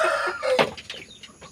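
A Burmese hen vocalizes in a backyard poultry setting, giving a few loud, close, rising and falling clucking calls in quick succession with no talk.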